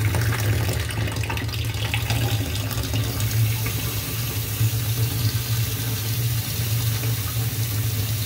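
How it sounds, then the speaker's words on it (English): Tap water runs steadily into a sink, rinsing and neutralizing acid off a carbide end mill after aluminum removal, a close, continuous splashing gush with a low humming undertone throughout about eight seconds. "I'm going to go ahead and neutralize this by just running water through into it"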